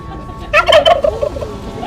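A turkey at a Thanksgiving pardoning ceremony lets out a loud, close, rapid gobble, a quick burst of warbling notes trailing off after about a second.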